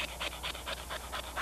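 An older dog panting during obedience training, quick rhythmic breaths repeating about five times a second, close and fairly faint, with no speech over it.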